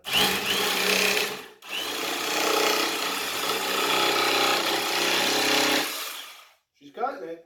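A Milwaukee jigsaw cuts through a clamped piece of PVC, a loud rapid buzzing chatter that stops briefly, resumes for several seconds, then cuts out, leaving a short bit of talk at the end.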